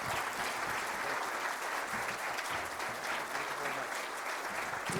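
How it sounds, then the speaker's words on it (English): Sustained applause from a luncheon audience for the Kentucky governor, dense and steady clapping filling the room for the full stretch without speech. "Let's give him a round of applause."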